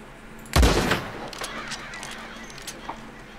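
A single loud gunshot fired in Red Dead Redemption, sharp and close with a short rolling echo, followed by quieter ambient outdoor game sounds and a few faint clicks.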